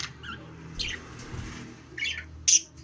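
Pet budgies give a few short, high chirps and squawks, scattered and fairly faint over a low background hum, with one sharper call near the end.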